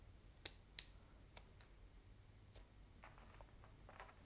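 Small scissors snip a beaded kumihimo braided cord in a few crisp, quiet clicks close by, three or four sharp cuts early on followed by faint handling sounds in a quiet room.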